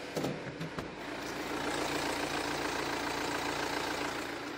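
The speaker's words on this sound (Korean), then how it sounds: "이 정도의 엔진 소음 만나보실 수가 있습니다" Diesel engine of a first-generation BMW 2 Series Active Tourer idling, a steady moderately quiet hum after a couple of brief knocks at the start, no talking.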